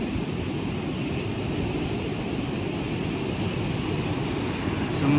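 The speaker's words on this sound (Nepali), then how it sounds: "समुद्रको पानी चाहिँ निकै बौलाउँदैछ" Rough, agitated sea surf rolling in along the shore, a steady dense roar of crashing waves mixed with gusting wind buffeting the microphone, continuous and loud throughout with no talking.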